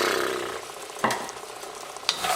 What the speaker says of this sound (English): I'm going to go ahead and add my nuts.